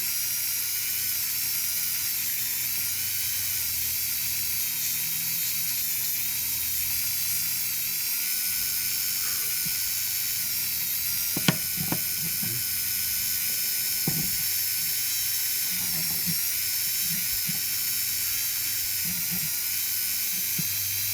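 A handheld sander fitted with a 400 grit pad runs steadily with a high whine and buzzing hum, holding close and even throughout, with a few brief clicks and knocks near the middle.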